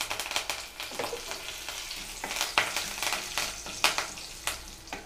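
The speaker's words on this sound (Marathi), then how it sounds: "छान अशी फोडणी झाली आहे इथे आपली।" Curry leaves, mustard seeds, cumin and asafoetida hit hot oil for a dal dhokli tempering, giving a close, continuous crackling sizzle with sharp, repeated pops and no talking.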